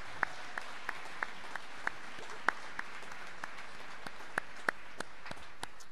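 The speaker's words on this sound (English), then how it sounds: "Let's give all of these college employees a round of applause." Applause at a health graduation ceremony, mostly a soft crowd wash with distinct sharp individual claps standing out at irregular intervals, heard from a distance at low level.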